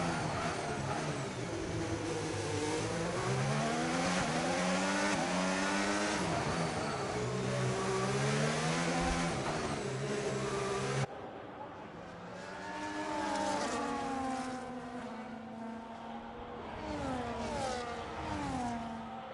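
Formula 1 race cars on the Baku street circuit in Azerbaijan, in an F1 racing video game, one running on hard tyres: a loud, continuous engine whine that climbs and dips through gear changes, then drops in level partway through, with no talk.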